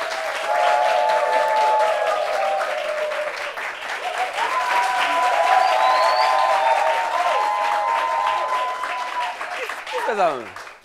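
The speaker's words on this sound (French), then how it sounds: "Applaudissements pour lui, s'il vous plaît" A studio audience claps for the first guest on a talk show about people who refuse to marry, a steady, full crowd sound lasting several seconds, overlaid with music and a voice, ending in a brief swoosh.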